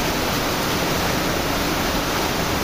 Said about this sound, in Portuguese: No Morro das Pedras, muita água pelas ruas e escadas das moradias do aglomerado.